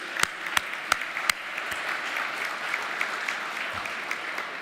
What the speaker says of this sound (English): I want to give a big applause first to Valerie and the OAS team and YABT.